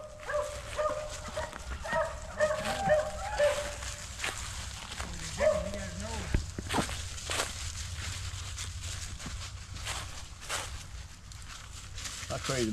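Beagle puppies let out scattered barks and high yips during their first encounter with a live rabbit, mixed with footsteps, rustling and people talking nearby.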